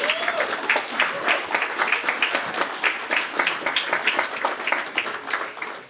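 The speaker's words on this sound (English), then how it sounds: "Everybody, please give them a round of applause." Applause fills an audience hall at a military senior NCO induction ceremony at Lajes Field in the Azores: dense, sustained clapping from many people, steady and loud from start to finish.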